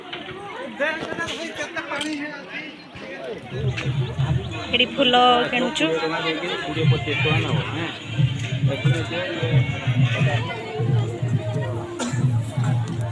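A busy temple crowd fills the air with a babble of many voices and footsteps. Nearby people talk over a constant murmur that grows fuller and denser after the first few seconds.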